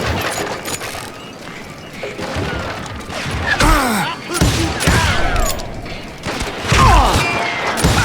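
Gunfire in the Western shooter game Call of Juarez Gunslinger: rapid overlapping gunshots and ricochet whines in loud bursts, with a final heavy volley near the end.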